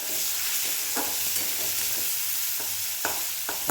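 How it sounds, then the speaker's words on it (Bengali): Chopped onions frying in a pan, a steady close sizzle with occasional stirring scrapes and clicks, no voices. "পেঁয়াজ কুচিগুলো একটু ভালো করে লাল লাল করে ভাজতে"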